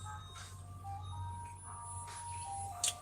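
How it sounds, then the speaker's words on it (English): Ice cream truck jingle playing faintly from a distance, its thin repeating melody drifting over a low background hum, with a brief click near the end. "You got the little ice cream truck."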